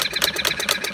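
A half-scale Breisch Olds hit-and-miss gas model engine runs close by, giving rapid, evenly spaced mechanical clacks, about eight sharp beats in a second, loud and alone.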